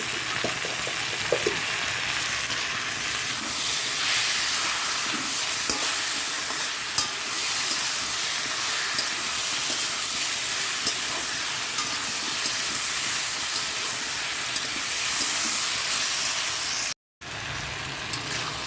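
Vegetable curry of potato, pointed gourd and pumpkin sautéing in a pan with garlic and green chilli paste, giving a steady close sizzle and frying hiss with occasional stirring scrapes, broken briefly by a short gap near the end.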